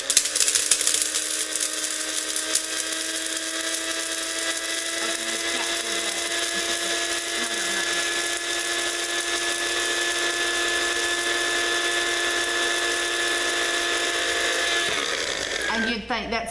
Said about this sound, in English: And then you just put it in your bullet and you grind it.